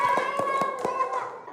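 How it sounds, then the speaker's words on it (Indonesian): Several hands clap in quick, uneven pairs in a classroom, close by and fairly soft, over a steady tonal hum. "Bagus, terima kasih, tepuk tangan."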